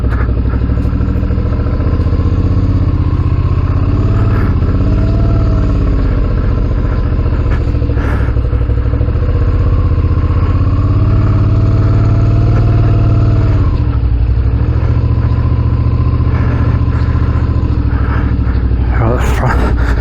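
A Suzuki V-Strom 650 adventure motorcycle rumbles loudly and steadily at low speed on a slippery off-road stretch, its engine drone shifting in pitch as the rider eases through, with wind buffeting and talk over it.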